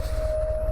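A sustained high-pitched squeal of another vehicle's brakes holds one steady tone, fairly loud, over low rumbling road noise heard while riding a Harley-Davidson Road Glide ST.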